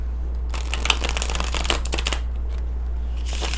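Amulet oracle cards being shuffled by hand at close range, a rapid crisp riffling and sliding in several bursts over a steady low hum.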